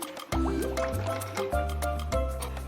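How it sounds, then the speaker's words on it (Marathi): Water poured into a thick breakfast batter, heard as a close run of gurgling, dripping splashes with wet squishy glugs repeating in quick pulses. "तर आपण यामध्ये थोडस पाणी ऍड करूया"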